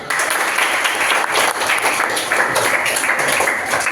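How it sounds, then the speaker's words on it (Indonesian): Junior high students in a classroom at SMP N 2 Kupang clap for a student group, a dense, loud burst of many hands that holds evenly throughout. "Ya, kasih tepuk tangan dulu."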